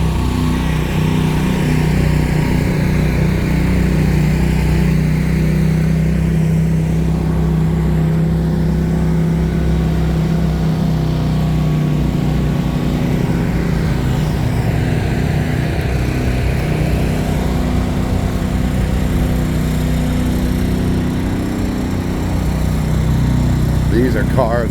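Big block modified race car engines drone steadily at the Orange County Fair Speedway during the Eastern States 200, a continuous distant roar under a person talking.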